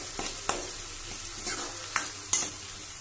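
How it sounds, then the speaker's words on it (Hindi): Ground spice paste frying slowly on low heat for an egg masala curry, a steady dense sizzle with periodic scraping stir strokes across the pan, close and fairly loud. "इसे धीमी आंच पर धीमी आंच करके इसको अच्छे से हल्का गोल्डन ब्राउन होने तक भूनना है।"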